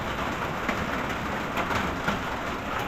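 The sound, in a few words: rain downpour outside woodshed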